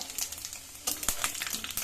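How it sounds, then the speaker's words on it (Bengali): Panch phoron spices and chili hitting hot oil in a pan, a soft sizzle with crackling pops that swells sharply partway through, close and fairly quiet. "তেল গরম হয়ে গেছে পাঁচ ফোড়ন আর লঙ্কা দিয়ে দেবো তেলে"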